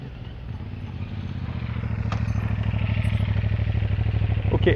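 A trail motorcycle engine idles and revs steadily during a rider training session, growing louder and closer over a few seconds, with faint clatter from the bike.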